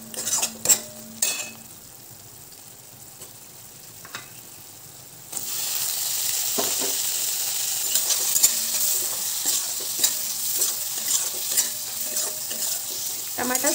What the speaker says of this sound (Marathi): धनिया पावडर, मसाला, मसाला तेलात होऊ देऊ।